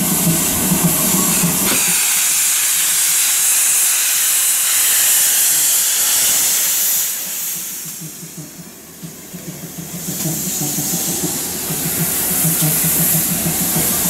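A GWR Hall class steam locomotive, 2593 Pitchford Hall, hisses loudly at a steam gala, a broad continuous rush of steam that dips briefly in the middle before surging back, with no voices over it.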